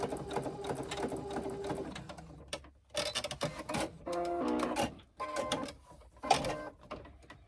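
A sewing machine basting and top-stitching fabric for a sling stitches in several short, uneven bursts of rapid clatter separated by brief pauses, close and fairly quiet, with no talking.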